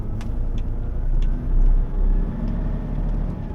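A truck rolls along a road on the way to a customs post, heard from inside as a continuous loud low engine rumble and road roar, swelling slightly midway, with faint rattles and clicks in the cab and no speech.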